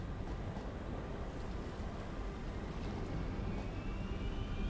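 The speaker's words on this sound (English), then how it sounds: "Listen to that beautiful frickin' turbine music." Water extractors run in the Satisfactory factory game, a steady broad machine hum and whooshing drone that holds level throughout, with no voices.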